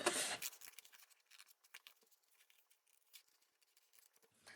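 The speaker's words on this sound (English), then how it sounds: "Now I'm thinking I like this vintage market sign, so I'm going to cut that one out." Scissors snip through a paper vintage market sign cut out for a collage card, a quiet series of short close crisp cuts and paper rustles with no talking.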